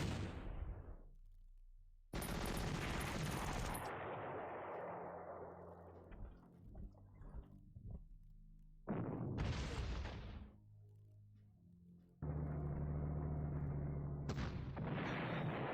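Artillery and gunfire from the wartime strategy game Panzer Corps: a loud sustained blast with a long decaying rumble, then several more sharp booming bursts separated by brief near-silent gaps, no voices.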